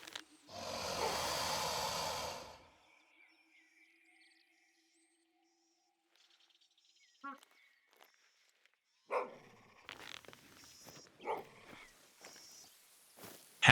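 A hunting dog in theHunter: Call of the Wild scares off geese: an opening burst of loud noise, then near silence, then a run of short, sharp barks and snorts close by.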